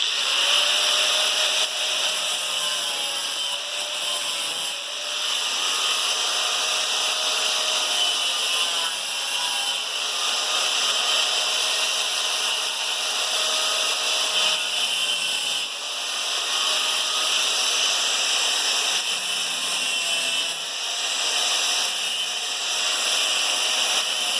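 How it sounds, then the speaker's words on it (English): An angle grinder trims nails and screws off a willow hoop, a sustained high-pitched whine and hiss running steadily and close with small dips as the disc bites the metal. "I'm going to go ahead and take the angle grinder and just trim them off real quick"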